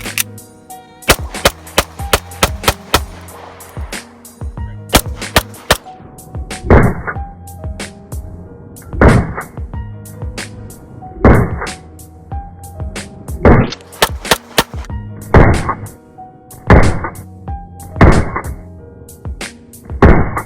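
Pistol shots from a Smith & Wesson M&P9 fitted with a Texas Black Rifle Co mini compensator, sharp loud cracks fired singly and in quick pairs across a long string, no talking.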